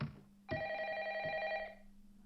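A telephone in a Japanese horror film rings with a sharp electronic trill that starts abruptly, holds for about a second, then cuts off against a quiet, low-humming background.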